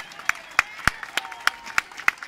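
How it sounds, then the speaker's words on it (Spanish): Sharp, evenly spaced claps sound in a steady rhythm, about three per second, from a civic event audience, fairly close and clear over a quiet background. "Otro aplauso bien fuerte"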